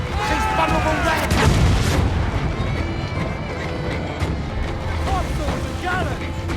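Ship cannons boom in a naval battle in Assassin's Creed Black Flag, heavy blasts rolling under shouted crew orders, with loud explosions early and further shots later.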